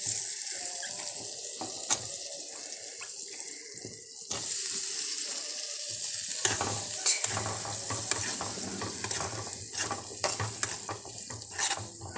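Grapes frying in hot oil with salt for a Kerala-style grape pickle give a steady sizzle, broken by repeated scraping and clinking stirs of a spoon in the pan, all close and fairly loud.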